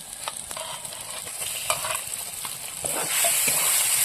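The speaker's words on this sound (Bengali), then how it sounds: "এবার আমি এখানে কেটে রাখা টমেটোগুলো দিয়ে দেব" Chopped tomatoes go into a cooked-down spice paste in oil for an egg posto curry, with stirring clicks and scrapes over a low sizzle that swells into a louder, steady hiss toward the end.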